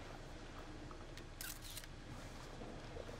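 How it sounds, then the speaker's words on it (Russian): A camera shutter clicks once, in a short bright burst, over a steady background hum in the video game Man of Medan. "Давай сначала сфоткаемся."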